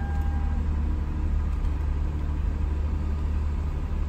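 A salvage-auction car, listed as run and drive, runs just after starting, its engine giving a steady, even low rumble throughout, close and continuous with no talk over it.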